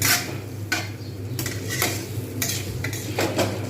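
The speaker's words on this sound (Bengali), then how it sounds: "ভালো করে ভেজে নিচ্ছি" Mixed fried rice being stir-fried over medium heat, with a soft background sizzle broken by repeated metal spatula scrapes and clinks against the pan at an irregular rhythm.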